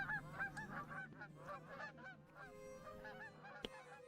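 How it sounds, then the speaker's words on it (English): Canada geese honking in the Wii video game Canada Hunt, a rapid run of nasal honks from several birds overlapping in a faint, continuous chorus. "Canadian geese ranks in the 5th, 6th, and 7th consecutive spots in the top 10 most unpleasant things you could ever hear"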